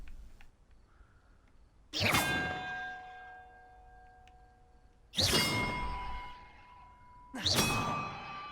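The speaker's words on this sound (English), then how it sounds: "Right up here is where the bells are." Three loud bell clangs in Hogwarts Legacy, each a sharp strike ringing out into long, slowly fading metallic tones with bright overtones, spaced a few seconds apart with quiet between them.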